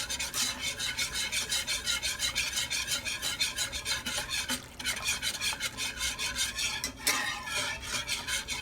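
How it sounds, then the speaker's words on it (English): A spoon stirs a simmering Alfredo sauce in a pot, making a continuous rhythmic scraping and swishing of quick even strokes, close and alone, with a soft bubbling underneath. "I'm just going to mix that up a little bit more"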